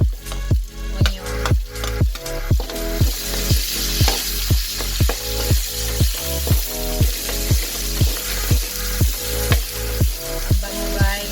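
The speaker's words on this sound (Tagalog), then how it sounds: "Habang igigisa natin. Mag-iwanan tayo ng konting mantika." Onion sautéing in leftover oil alongside pork liempo, with a continuous sizzle cut by rhythmic spatula scrapes and stirs roughly twice a second, close and loud.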